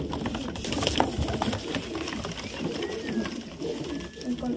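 Golden and teddy pigeons with dab markings coo in a loft in Amritsar, Punjab, low repeated calls running through a busy mix of rustling and background clatter.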